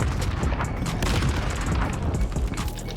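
An explosion goes off in the video game Call of Duty Modern Warfare, a loud, rumbling blast blended with crackling gunfire that fills the whole three seconds with no clear talk over it.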